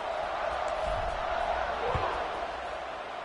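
Stadium crowd in the Madden 26 football video game, a steady, dense roar of fans washing through the whole moment with a brief thud midway, loud and continuous.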